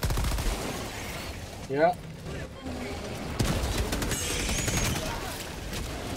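Gunfire from the video game Helldivers 2 during a flanking fight, steady crackling shots and bursts running throughout, with a brief voice speaking amid the noise.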